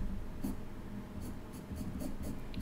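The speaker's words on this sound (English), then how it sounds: "you may want to take your pencil and you may want to blunt the tip like this so that it's flat" A colored pencil rubs back and forth on paper to wear its tip flat, giving soft, close scratchy strokes in an irregular rhythm with no talking.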